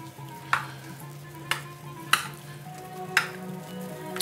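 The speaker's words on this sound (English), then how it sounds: "we're gonna stir that up in there real good" Charred onions are stirred into black-eyed peas in a pan, with four sharp scraping clinks of a utensil against the pan about a second apart over a low steady sizzle and hum.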